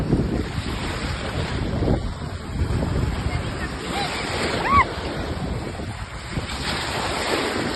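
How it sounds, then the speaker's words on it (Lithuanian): Large sea waves surge and wash along a Turkish coast, a loud rolling roar mixed with heavy wind buffeting the microphone, with a faint voice briefly in the background. "Pakyla didžiulės bangos."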